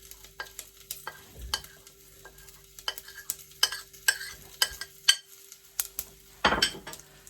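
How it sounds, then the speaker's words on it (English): Onions and chilli going into a pan of popping mustard seeds, sharp scattered pops and crackles over a low sizzle, with stirring clinks and a louder scrape near the end. "So our mustard seeds are popping now nicely."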